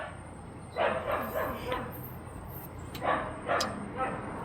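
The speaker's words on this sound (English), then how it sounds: "got away from the barking dog" A dog barks a handful of times at moderate distance, quick sharp yaps in two short bursts over a steady background hiss.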